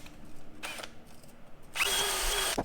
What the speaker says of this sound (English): I'm going to just hit it real quick with the wire brush.